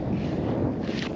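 Steady wind blowing across a wild mountain campsite, a constant broadband rush with gusty swells, close and fairly loud throughout, no voices.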